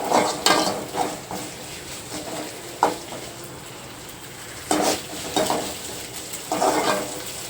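Ginger and garlic fry in a pan while being stirred, with steady sizzling beneath several sharp scrapes and clinks of a utensil against the metal, all close and with no talking.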